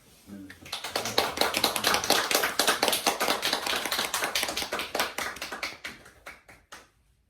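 Audience at a Korean bookstore author talk applauds the author, a dense burst of hand claps that swells quickly, holds steady, then thins to a few scattered final claps.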